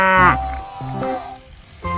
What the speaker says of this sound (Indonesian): Ada hewan sapi. Wah, lucu sekali ya, mantap. Sapi mo.